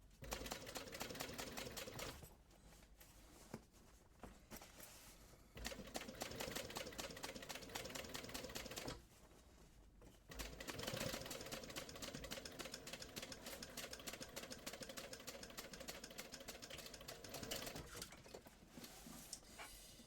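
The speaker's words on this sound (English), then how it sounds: "I'm going to keep sewing up this side here and sew it closed" A sewing machine runs close and loud as it stitches a seam on a backpack, with long continuous runs of rapid needle chatter broken by two brief pauses.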